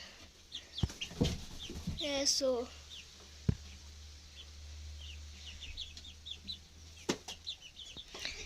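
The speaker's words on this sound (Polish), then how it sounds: "Tutaj taki kogut rudy." Chickens cluck repeatedly nearby, with a red rooster's louder calls and some wing flapping, while a person briefly speaks.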